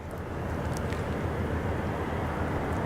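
Austrian Airlines Embraer jet at Zurich airport, a steady broadband engine roar at moderate distance, constant and unbroken throughout.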